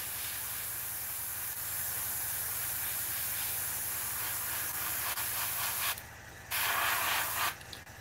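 A paint spray gun hisses in a steady, close stream, cutting out briefly near the end and then firing another short burst.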